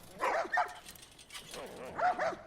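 Dogs in the video game The Last of Us bark in short clustered bursts, a few yips and woofs at moderate distance, with game ambience underneath.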